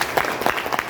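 A crowd bursts into a short round of applause, with dense overlapping claps that sound fairly close and lively.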